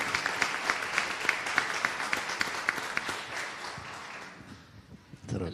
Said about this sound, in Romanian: Trebuie să-i mulțumim și să-l aplaudăm.